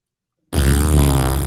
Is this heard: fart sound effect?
yes